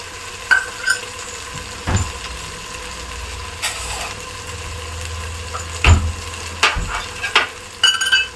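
Chili powder stirred into frying masala for a seeraga samba chicken biryani: a steady sizzle runs throughout, broken by scraping stirs and sharp spoon knocks against the pan.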